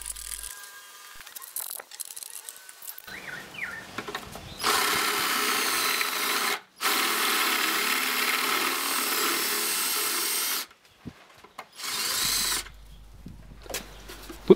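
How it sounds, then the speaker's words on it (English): A 10mm power drill bit bores a concave hollow into the end of a steel rod, part of making home-made handscrew clamps. Loud sustained grinding comes in long bursts separated by pauses, with quieter mechanical handling between them. "switch to a 10mm drill bit and drill out a concave in the end of the rod"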